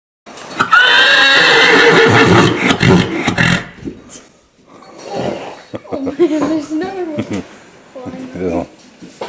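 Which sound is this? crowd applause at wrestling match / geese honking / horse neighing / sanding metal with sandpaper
horse neighing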